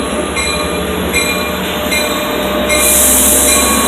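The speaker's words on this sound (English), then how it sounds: "There's an Oyster Bay train coming through" Long Island Rail Road Oyster Bay commuter train passing through Mineola station, a loud, steady rumble of wheels and carriages close by with high metallic squeal, continuous throughout with no talk.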